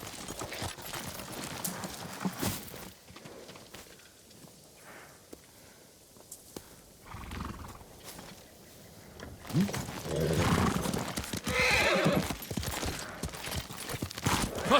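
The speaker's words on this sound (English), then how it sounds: "Her horse isn't here." Horse hooves clatter in Ghost of Tsushima, footfalls coming and going over quieter stretches before building into a louder, faster run toward the end, with no voices.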